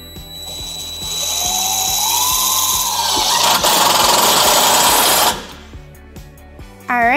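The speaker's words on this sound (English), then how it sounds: "We are going to use a 4-flat mounting bracket with our provided self-tapping screws." A power tool drives self-tapping screws into a 4-flat trailer wiring mounting bracket on a 2010 Chevrolet Colorado, whirring steadily and loudly for several seconds with a rhythmic ratcheting pulse before stopping abruptly.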